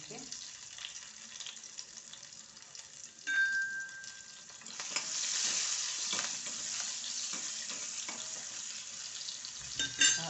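Cumin and green chili drop into hot oil for a drumstick besan dish, and a bright sizzle rises and holds steady at close range with a few stirring clinks.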